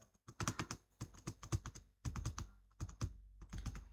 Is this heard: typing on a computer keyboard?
yes